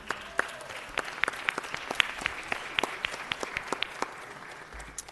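Light, scattered applause from a small audience at a city council meeting, individual claps distinct and irregular, fairly quiet and lasting a few seconds.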